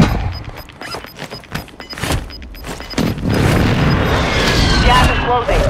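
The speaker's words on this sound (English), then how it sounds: "Friendly precision airstrike is found." Heavy booms from precision airstrike explosions in Call of Duty Warzone 2, a series of blasts building into a loud sustained rumble, with players talking over them.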